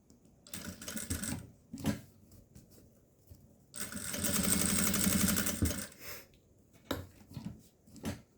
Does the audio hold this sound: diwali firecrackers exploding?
no